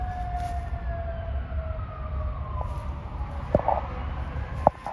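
An ambulance siren wails in the background beside a grave in Halifax, Nova Scotia, a steady tone sliding slowly downward under low traffic rumble, with a couple of sharp knocks near the end.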